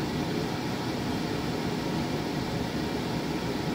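A home HRV ventilation unit runs its auto balancing procedure with a steady, even airflow hiss and fan rush, constant and unbroken from start to finish.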